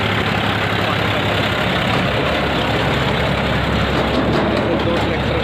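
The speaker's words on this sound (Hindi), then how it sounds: "ऐसे 2 ट्रैक्टर गुजर रहे मेरे बगल में।" Two tractors pass close beside a cyclist on a road between Firozabad and Agra, a loud, continuous low engine rumble and chug that stays heavy throughout, swelling slightly near the end.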